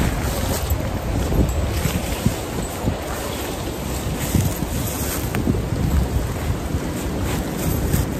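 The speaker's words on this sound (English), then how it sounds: "it's quite a windy day today" Steady wind gusting outdoors on a blustery day around a one-man tent being pitched, a broad continuous rushing roar with microphone buffeting, close and fairly loud, no talking.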